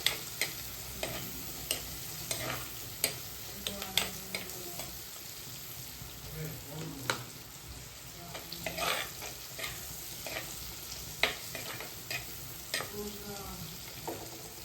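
Prawns with turmeric sizzle and are stirred in a hot pan, a steady soft frying hiss broken by repeated scraping spoon strokes, close and fairly quiet.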